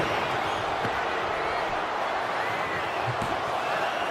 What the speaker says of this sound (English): Crowd is chanting one more time